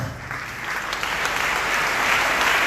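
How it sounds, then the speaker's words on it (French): A church congregation applauds during a Sunday worship service, steady dense clapping that holds loud and continuous throughout, with no talk over it. "Là, il faut continuer à l'applaudissement bien fidèle."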